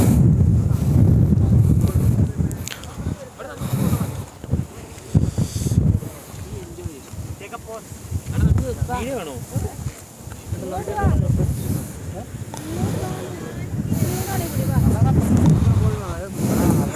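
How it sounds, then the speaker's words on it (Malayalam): Strong wind buffets the microphone in loud gusts on a high hilltop in the Munnar tea estates, easing briefly and surging again while a person talks beneath the rumbling. "മേലോട്ട് കയറും തോറും കാറ്റ് ഭയങ്കര ശക്തിയായിക്കൊണ്ടിരിക്കുക"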